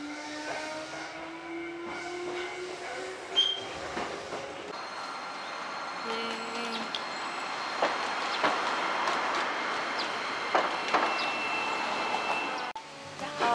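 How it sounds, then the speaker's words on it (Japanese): A tram rolls into Yamaguchi station with a steady low rumble, faint squealing tones and scattered clacks of the rails. "路面電車でした。"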